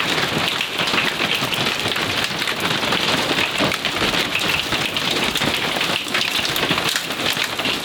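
Hail pelts a truck and camper in a loud, dense, continuous clatter of impacts on metal and roof surfaces, steady and close throughout.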